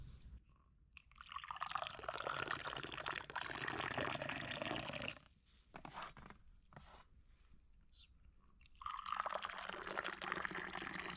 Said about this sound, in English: You can do a shot actually when I'm pouring.